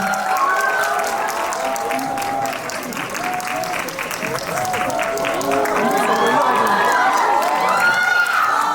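A cinema audience at a Veteran 2 stage greeting claps loudly and continuously, with cheers and shouts rising over the applause throughout.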